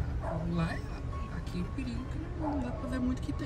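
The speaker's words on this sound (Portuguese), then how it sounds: "tem um cachorro latindo ainda" A dog barks and yips at some distance from an abandoned house, in short intermittent calls beneath ongoing conversation.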